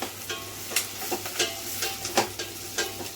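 Tempering spices crackle and sizzle in hot oil in a pan for a bottle gourd curry, with a steady fry broken by sharp spitting pops at irregular intervals, close and moderately loud.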